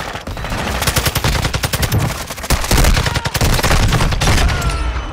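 Gunfire in Call of Duty: Modern Warfare II, loud rapid automatic bursts and overlapping shots in a dense, continuous volley, close and intense throughout.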